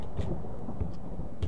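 Low, heavy thunder from a storm in the horror game True Nightmares rumbles three times at regular intervals over a steady stormy background, fairly loud and close.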